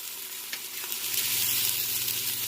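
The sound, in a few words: ginger garlic paste sizzling in hot oil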